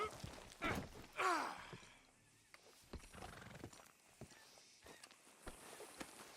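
A horse in Red Dead Redemption 2 whinnies loudly near the start, followed by scattered hoof clops and soft snorts at an irregular pace, fairly close and otherwise quiet.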